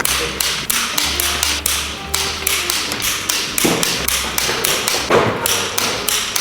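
A torque wrench turns Volkswagen GTI cylinder head bolts during a rebuild, in a rising-torque tightening pass. Steady, evenly spaced ratchet clicks and light taps repeat close by over a low background hum, with no voices.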